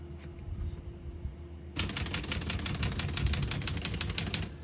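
A 1965 Olivetti Lettera 32 portable typewriter typed on steadily, a quick run of close, crisp key strikes after a quieter opening with faint background noise.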